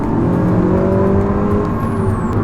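A Honda Accord 2.0 turbo in Sport drive mode accelerates hard, its engine droning loudly and climbing steadily in pitch as revs build, heard from inside the cabin with no talking.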